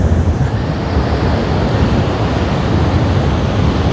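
Surf washing onto a beach on a rugged stretch of Australian coastline as the tide goes out, a steady broadband roar with wind buffeting the microphone throughout, close and loud with no voices.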